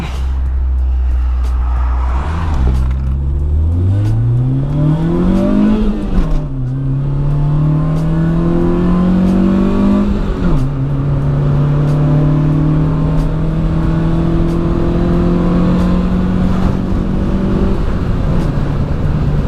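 A Honda Civic converted to a manual gearbox, driven from inside with a loud, close engine revving up through the gears, with clear pitch drops at each shift and steady cruising drone between.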